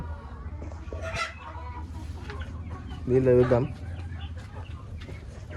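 Native country hens cluck on a rooster farm, with soft intermittent clucks and a louder drawn-out cackle midway, close by and partly under someone talking.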